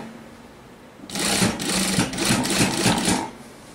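Sewing machine stitching the collar of a one-piece open-collar dress, starting after a second of quiet and running in steady close bursts of rapid needle clatter for about two seconds before stopping.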